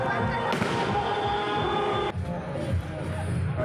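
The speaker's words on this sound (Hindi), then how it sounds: "जैसे कि शोर सुन रहे होंगे पीछे पटाखों की।" Firecrackers and fireworks crackle and thump at a wedding procession in India, a loud, busy barrage of bangs mixed with crowd noise, with a sharp burst near the start and continuing pops throughout.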